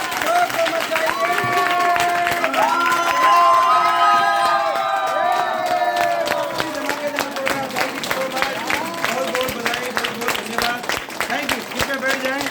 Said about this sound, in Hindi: तालियां में थोड़ा सा दम पैदा करिए, तमाम हल्ला जोर से मचाइए